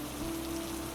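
Steady rain falling at night, a dense unbroken hiss of drops that is close and even throughout.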